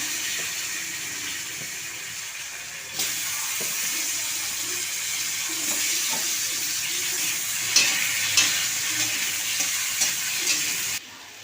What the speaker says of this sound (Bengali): তেলের মধ্যে আমি কিছুটা কালো জিরে ফোড়ন দিলাম তার মধ্যে আলুগুলো দিয়ে দিলাম